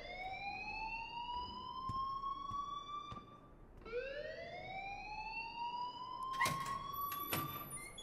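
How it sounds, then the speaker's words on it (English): Fire alarm in the video game Life Is Strange, wailing as two long rising sweeps at moderate volume, followed by a few sharp clanks near the end. "please turn off that alarm since that's your job"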